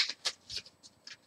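Tarot cards are shuffled in quick, close riffles and swishes, several short bursts over about a second, with no voices.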